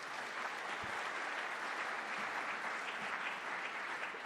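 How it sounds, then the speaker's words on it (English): A big round of applause from an investment manager conference crowd for awardees, a dense, even wash of clapping from many people at steady volume throughout, with no talking over it. "Let's give them a big round of applause."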